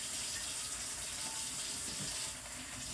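Kitchen tap running steadily during washing up, a continuous close hiss of water splashing into a sink with no talk.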